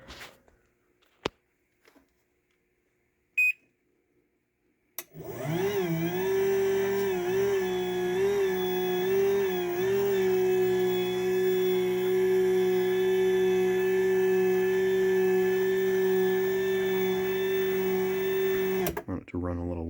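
After near silence with a few faint clicks, a Chamberlain B2211T garage door opener motor starts with a snap and runs for about fourteen seconds as a steady, close electric hum with a wavering whine, then stops abruptly.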